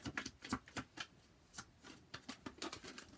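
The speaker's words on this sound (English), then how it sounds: "Let's shuffle a little bit longer." Quick, papery riffles of tarot cards being shuffled, a steady run of soft bursts with brief pauses, close and clear with no talking.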